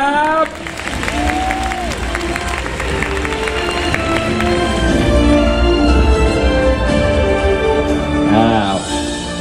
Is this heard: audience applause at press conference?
yes